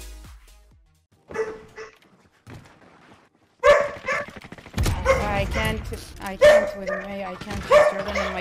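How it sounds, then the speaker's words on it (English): Dog barking and yipping noises during an online game session, loud and close, mixed with excited talking. "I'm sorry for the puppy noises."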